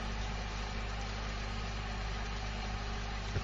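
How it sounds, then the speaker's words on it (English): A coal stove's stoker mechanism runs with its crank moving back and forth, giving a steady low mechanical hum and drone with faint rhythmic pulsing, close and continuous, with no talking. "The crank's moving in here."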